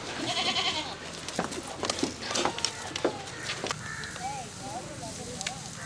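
Goat bleats rise in wavering calls at the start and again near the end of a rural farmyard scene, with people talking loudly over and between them.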